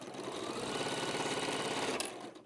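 A sewing machine sews a quarter-inch seam on quilt blocks, a continuous rapid rhythmic stitching hum, close and steady, ending with a brief click and no talk.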